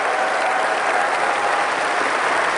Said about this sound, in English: it's just they're clapping so hard